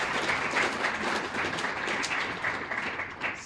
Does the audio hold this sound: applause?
yes